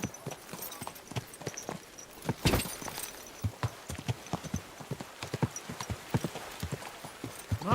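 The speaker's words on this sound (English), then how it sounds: "My, what a beautiful horse!" Horse hooves clip-clop in the video game Kingdom Come Deliverance 2, a steady close walking rhythm of crisp individual strikes with a brief louder scuffle midway, no speech.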